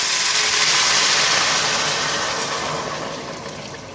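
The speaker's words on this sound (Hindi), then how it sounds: "अब जो है वो मैं इसमें ये पानी डाल दूंगा, ये जो शरबत हमने बनाया है वो डाल देंगे।" Jaggery syrup water is poured into a pan of browned onions, giving a loud, broad sizzling hiss that slowly fades over a few seconds.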